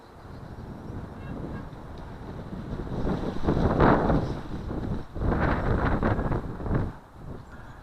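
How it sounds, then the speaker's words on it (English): Blustery wind buffets the microphone with a low, roaring rumble that swells into stronger gusts partway through, with no talking. "It's well windy up there."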